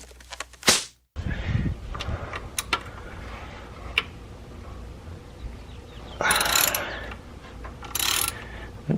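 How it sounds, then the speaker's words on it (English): Ratchet and socket work on the bolts of a 1985 VW Scirocco Mk2 during oil pump removal: sharp metallic clicks and a few clattering bursts near the start, then quieter ratcheting and two louder rasping stretches toward the end. "So let's undo some bolts and see what happens."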